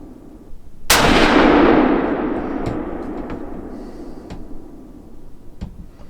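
A single loud rifle shot from a Savage Axis in .350 Legend firing a 160 grain bonded bullet cracks sharply, then rolls into a long fading echo, with a few faint clicks and knocks after it.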